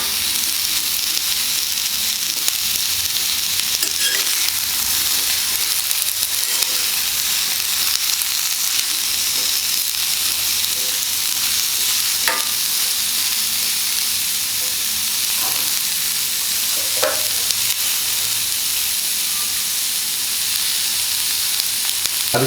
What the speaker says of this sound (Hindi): इसको भी अच्छी तरह से मिला लेंगे और 2 से 3 मिनट तक हम मिलाते रहेंगे।